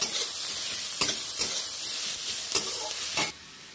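Salted onions frying in a pan, a loud, dense sizzle with a few spatula strokes as they are stirred, cutting off abruptly near the end; no talking.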